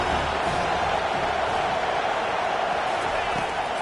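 A football stadium crowd at a Penn State game roars steadily for the defense on a big third down, a dense, loud wash of cheering that holds from start to finish without a break.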